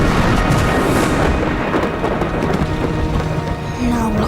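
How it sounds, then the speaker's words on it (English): A thunderstorm with rain pours down steadily as a loud, dense hiss of rainfall, with low rumbling underneath and no clear break throughout. "Oh dear, it's raining."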